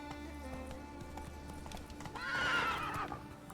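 A horse in The Witcher 3: Wild Hunt clip-clops along in a steady hoof rhythm and then lets out a loud, drawn-out neigh that rises and falls, with faint background noise underneath.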